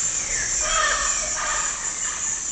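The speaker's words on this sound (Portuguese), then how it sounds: "Os galos da serra se enfrentam para conquistar a companheira." Male Andean cock-of-the-rock birds fighting over a female in the Amazon: loud, harsh, rasping squawks and grating calls that rise and overlap for about two seconds, against a constant high insect-like hiss.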